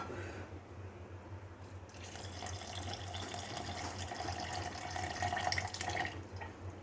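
Water pours steadily into freshly ground curry-leaf paste for a spicy kulambu, a continuous splashing trickle that builds slightly in intensity near the end, with no talking.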